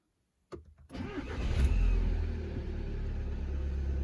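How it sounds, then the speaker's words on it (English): A 2011 Volkswagen Jetta engine starts with a short crank, then settles into a steady, loud idle as it warms up, a low continuous rumble close by with no talking. "So I'll be changing gears while I wait for the engine to warm up."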